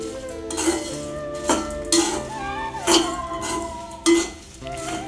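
Masala tea spices dry-roasting together in a metal pan, stirred with a utensil that clinks and scrapes against the pan in several distinct knocks over a low continuous background.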